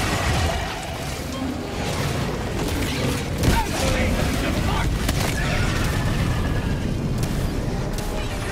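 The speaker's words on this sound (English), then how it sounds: "Rolling grenade!" A grenade goes off in the shooter game Helldivers 2, one short, sharp boom partway through a dense clatter of battle noise, with voices talking over it.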